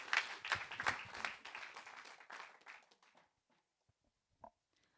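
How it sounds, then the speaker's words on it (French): A studio audience at a televised musical-theatre showcase for Marilyn, le musical bursts into dense applause that holds steady, then fades away over the last couple of seconds into near silence. "Dans le grand studio, on peut l'applaudir très très fort"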